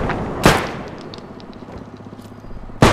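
Two sharp, loud shotgun blasts in a bodycam-style zombies shooter game, one early and one at the very end, with a quiet stretch of faint background noise between them and no talking.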